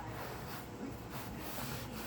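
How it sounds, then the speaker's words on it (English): Cloth rubbing over a sanded J Bass guitar body to wipe away the sanding dust, a steady soft close-up scrubbing that continues throughout without pause. "let me see if I can kind of wipe some of this dust off"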